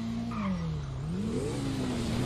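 A car exhaust revving in GTA V, a droning engine note that dips and then climbs again as the throttle rises, with no one talking.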